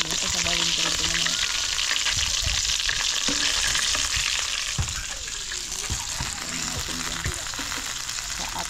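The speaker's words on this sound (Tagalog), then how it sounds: "last na lang ito yung ating priniprito" Fish caught by spearfishing fries in a pan with a loud, steady, close sizzle that runs unbroken, with a few soft knocks and stirring sounds.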